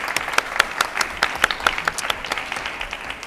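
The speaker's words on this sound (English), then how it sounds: "And can we just give a round of applause, please," A panel audience at an urban forum applauds Kishore with a brief round of moderately loud clapping that thins out toward the end.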